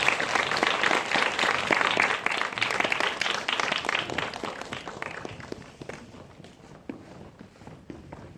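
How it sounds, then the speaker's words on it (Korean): An audience at a Q&A for a Korean short film program at the Bucheon International Fantastic Film Festival applauds as directors, actors and a cinematographer come onstage. Loud, dense clapping gradually thins into scattered claps. "큰 박수 부탁드리겠습니다"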